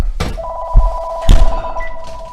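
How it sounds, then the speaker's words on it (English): A telephone rings with a sustained electronic warble in a home kitchen while garlic is being prepared, heard close and clear with a couple of soft thumps beneath it. "Hang on, I gotta get this phone call."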